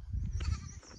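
Goats on a farm bleat in a couple of wavering calls, close by over a low background rumble, with no talk.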